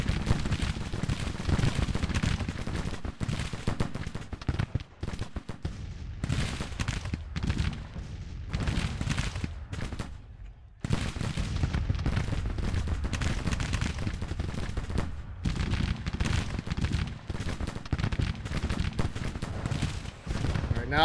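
Musket volleys and artillery fire in the Civil War strategy game Grand Tactician, dense crackling gunfire and booming cannon rolling continuously with brief lulls, sustained battle ambience with occasional faint voice.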